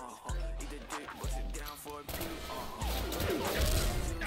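Sharp bursts of gunfire in the online shooter game XSHOT crack out a few times, with an excited voice talking over the shots.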